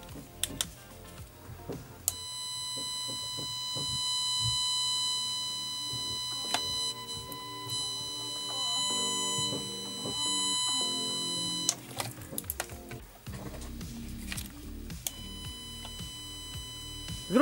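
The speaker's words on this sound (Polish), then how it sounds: "Przyciskiem na nadajniku można zmieniać rodzaj dźwięku." An ANENG M469A cable tracer transmitter gives off a thin, steady electronic tone that holds for several seconds, drops out, and returns after a brief pause, heard faintly and close amid light handling clicks.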